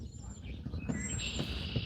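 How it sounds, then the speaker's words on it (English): Birds chirping outdoors beside a boat on a calm, windless day, with high thin whistled calls over a quiet, steady background hum. "listening to the birds."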